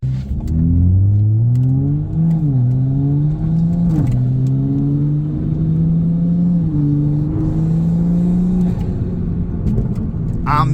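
BMW M3 with the S55 engine and a Valvetronic exhaust accelerating, a loud, close, continuous engine drone that rises in pitch through several gear changes, with brief dips at each shift and no talking.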